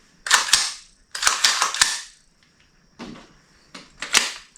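An M4 gas blowback airsoft rifle being cycled by hand: sharp, loud metallic clacks of the bolt and charging handle, in quick pairs and small clusters with short pauses between, close up and without talk.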